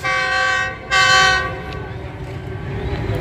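Karakoram Express train arriving in Lahore, Pakistan, sounds two loud blasts of its horn close by, the second longer, then the rumble of rolling railcars continues.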